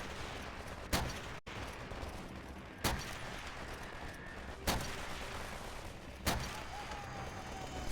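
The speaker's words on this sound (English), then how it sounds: "we find ourselves with a very familiar sniper rifle and prepare ourselves with some excellent headshots" Sniper rifle shots in the World War II shooter Call of Duty: World at War, four sharp cracks spaced about two seconds apart over a steady battlefield background.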